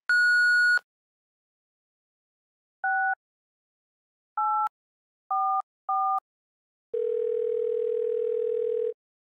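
A telephone dial tone and beeps in the game Thimbleweed Park: a short high tone, then several paired two-note beeps at a steady rhythm, and finally a lower sustained dial tone. Clean and alone, with no voices.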